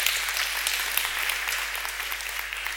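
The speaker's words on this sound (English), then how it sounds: "Give another round of applause." A live audience claps in a brisk, steady burst of applause that stays fairly even and close for a few seconds, with a low steady hum beneath it.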